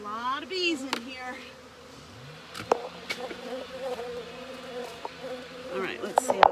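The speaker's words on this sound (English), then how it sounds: "There's a lot of bees in here." Honeybees buzzing inside an opened hive during an early spring check, a steady near drone with scattered clicks and handling knocks, under a few brief bits of talk.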